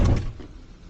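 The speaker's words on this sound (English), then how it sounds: "Slams the door." A door slams shut hard in a house as someone storms out, a loud thump at the start that fades into room noise.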